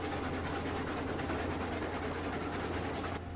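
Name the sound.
train rolling on tracks in video game Railroads Online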